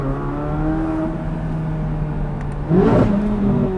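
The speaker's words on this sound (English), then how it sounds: "I've never heard a V8 sound that good." A Chevrolet C8 Corvette Z06 V8 idles and hums with a steady tone, then a sharp rev swells loudly near the end and stays raised, close and without voices.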